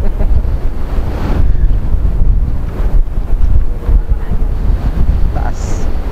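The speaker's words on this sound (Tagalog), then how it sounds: "Tiyatangay kami ng hangin." Strong seaside wind roars and buffets a microphone on a motorbike ride along the coast, a loud, dense, steady rush with gusty surges throughout.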